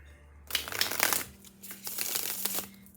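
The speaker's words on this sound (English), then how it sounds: "Let's do a little tarot, shuffling backward for some reason." Tarot cards being shuffled by hand in a quiet room, a run of soft papery riffling and crinkly slaps in uneven bursts, close and moderately loud with no talking.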